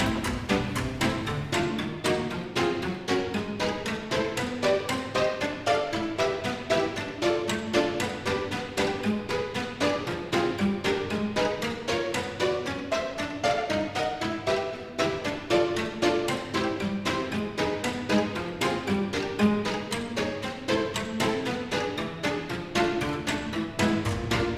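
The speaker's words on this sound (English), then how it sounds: "So, and so just with some pizzicatos in the piano, it sounds like this." Piano strings plucked by hand in a pizzicato style, playing a quick, bouncy, jazz-flavored tune that suggests ants; a steady stream of light plucked notes runs throughout with no voices.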